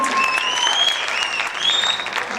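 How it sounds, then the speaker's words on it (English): A jazz concert audience applauds soloists after a tune, with steady, moderately loud crowd clapping. Whistles and cheering voices rise above it. "Please give another round of applause for all of our soloists on that tune."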